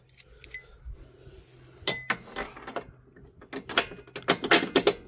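Bolts on a Can-Am Maverick X3 sway bar mounting block are tightened with hand tools, giving sharp metallic clinks and rapid ratchet clicks in bursts, close and fairly quiet.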